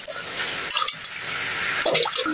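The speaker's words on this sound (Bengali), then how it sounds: "একটু পানি দিয়ে কচুর গাঠি দেবেন নিয়ে।" Water poured into a cooking pot with taro corms for a hilsa fish curry, a close steady splashing pour with a brief break midway, no talk.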